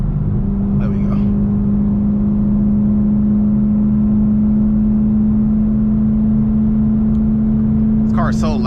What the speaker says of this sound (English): This car is so loud, bruh.